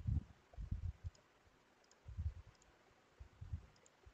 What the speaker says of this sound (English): and click on equal.